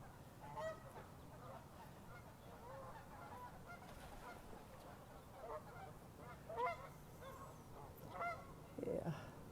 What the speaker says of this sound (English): Just like these ducks.